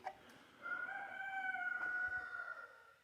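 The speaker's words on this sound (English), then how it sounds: "Ignore the rooster." A single drawn-out rooster crow rings out at moderate distance, holding a long wavering note for about two seconds over faint background noise.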